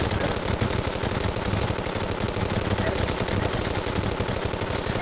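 Rapid, continuous weapon fire in the video game Terraria, a dense, steady stream of shots running the whole time at moderate loudness, with a voice talking at times.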